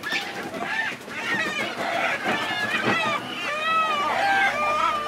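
Rescued roosters squawk and crow loudly and repeatedly up close while being moved, their harsh calls layered over a person speaking and background commotion.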